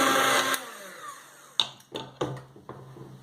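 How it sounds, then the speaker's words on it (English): Electric blender whipping cupcake batter of sugar and vanilla, a brief loud whirring burst that cuts off, followed by several light knocks and taps. "with a blender, blend until the batter is fluffy."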